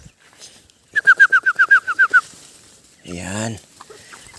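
Young chicks at feeding time on a poultry farm, a quick run of about nine sharp chirps close by, followed by a short spoken word.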